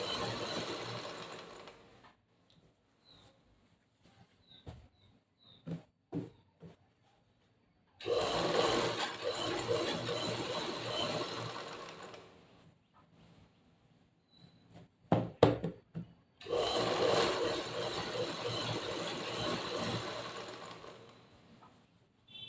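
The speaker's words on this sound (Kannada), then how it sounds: "ಈ ತರ ಮಷಿನ್ ಹೊಲಿಗೆನೆ ಹಾಕ್ಬಿಟ್ರೆ ತುಂಬಾ ತುಂಬಾ ಚೆನ್ನಾಗಿರುತ್ತೆ." A sewing machine stitches a zig-zag fall onto a saree in two long, steady runs of whirring, with quieter pauses and small handling knocks between them. No one speaks.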